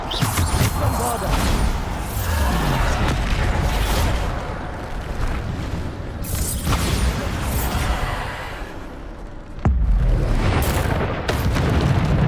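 Bombarda blasting spells in the Hogwarts Legacy video game, loud continuous booming explosions and crashing debris that swell and break in waves with no pause.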